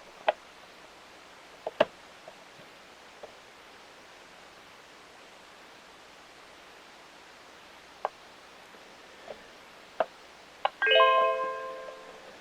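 Faint scattered clicks and taps over a quiet hiss as a smart bird feeder's power button is long-pressed, then a short bright electronic power-on chime of a few tones near the end.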